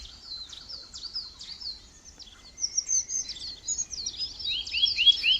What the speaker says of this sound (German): Der Vogel singt so schön.